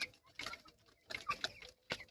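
Young Kadaknath chickens, about 25 days old, clucking softly in a few short, scattered bursts with quiet pauses between them, fairly faint and with no voices.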